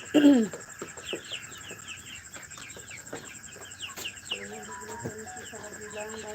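Chickens being fed at night cluck and murmur softly in a coop, with a sharp cluck at the start, scattered light rustles and taps, and a faint steady hum underneath.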